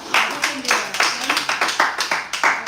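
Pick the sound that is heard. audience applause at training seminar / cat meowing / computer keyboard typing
audience applause at training seminar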